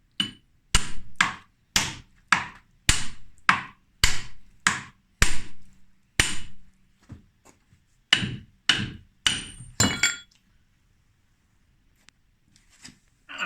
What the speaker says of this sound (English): I put the blade of the chisel in that where this board is joined